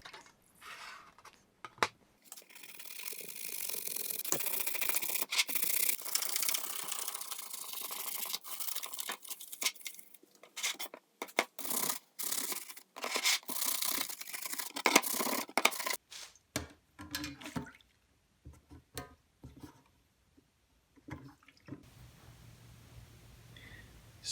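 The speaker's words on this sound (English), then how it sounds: "So I'm just going to keep scrubbing." Close, busy scrubbing of a saw blade to strip off sticky sap, a dense run of bristly, crackly friction strokes with brief gaps that fades into near silence near the end.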